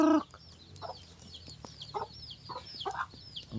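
Several chickens cluck close by in short bursts, with chirpy peeps scattered throughout and a few louder clucks standing out.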